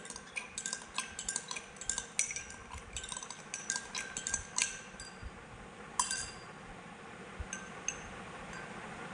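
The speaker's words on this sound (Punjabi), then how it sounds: "ਇਹਨੂੰ ਆਪਾਂ ਦੁਬਾਰੇ ਫੇਰ ਥੋੜਾ ਜਿਹਾ ਮਿਕਸ ਕਰ ਲੈਂਦੇ ਕਿਉਂਕਿ ਜਿਹੜਾ ਚੀਨੀ ਦੇ ਰਹਿ ਗਈ ਨੀਚੇ ਉਹਨੂੰ ਵੀ ਆਪਾਂ ਚੰਗੀ ਤਰ੍ਹਾਂ ਘੋਲ ਲੈਣਾ" A spoon stirring homemade lemon soda to dissolve settled sugar, rapid bright clinks of metal against a glass in quick bursts, close and clear with short pauses and no voices.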